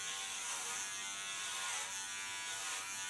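Electric hair clippers cutting hair, a close, constant high-pitched buzzing hum that holds steady throughout with slight swells, alone without speech.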